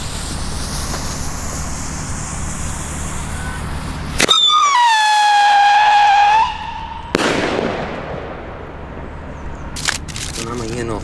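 A sharp crack followed by a long whistling, falling tone, then more loud bangs and pops of New Year's firecrackers outdoors, with a person talking faintly in the background.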